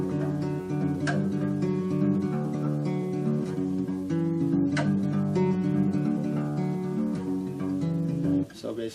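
Guitar plays the intro of a song slowly, plucked notes ringing and overlapping in a steady pattern at close range, with a brief pause near the end.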